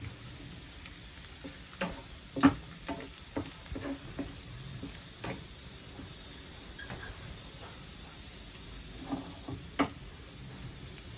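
Sautéing in a pan while preparing sweet and sour fish: a low, steady sizzle with scattered clinks and scraping stirs, fairly close and moderately quiet.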